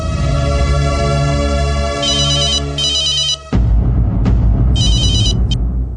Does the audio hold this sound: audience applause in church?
no